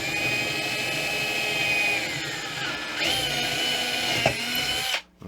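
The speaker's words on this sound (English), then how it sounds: "Go through the top of the guitar using a 9/64 inch drill." Power drill with a 9/64 inch bit whining loudly as it bores through a 12-string guitar's wooden top, pitch shifting as it loads and speeds up, then cutting off abruptly at the end.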